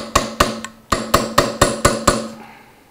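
Nine sharp metallic hammer blows strike a blunted chisel against a steering arm lock tab on an Austin-Healey Bugeye Sprite front suspension, coming in an uneven rhythm, close and ringing briefly, with no talking.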